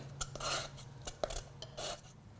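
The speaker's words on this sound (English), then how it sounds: "if you need to, just rub the edge on a piece of sandpaper" Cut pipe edge rubbed on sandpaper for a Super Mario Warp Pipe build, a few quiet rasping strokes in quick succession with soft scrapes between them, faint and close.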